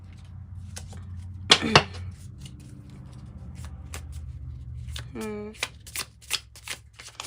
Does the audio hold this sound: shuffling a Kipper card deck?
yes